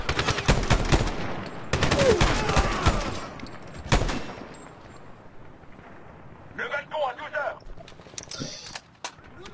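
Gunfire in the Medal of Honor video game, sharp bursts of shots near the start and again around four seconds, with someone talking over the action in French.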